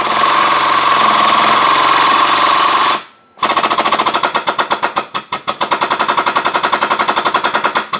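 A rear crank seal on a 2.5 non-turbo diesel engine is driven into place with a big spreader tool, a loud close run of rapid, evenly spaced metallic knocks after a steady whining tone stops abruptly.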